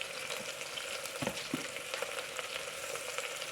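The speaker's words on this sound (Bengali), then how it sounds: "এগুলি হালকা পরিমাণ ভাজি হয়ে গেছে" Green chili, garlic and ginger paste frying in a pan gives a steady, even sizzle with a few faint stirring scrapes.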